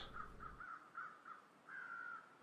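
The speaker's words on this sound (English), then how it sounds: "Crows are still over this wolf apparently." Crows circling a dead wolf in The Long Dark give a series of harsh caws, several short calls and then one longer drawn-out call, faint and distant over a quiet wintry backdrop.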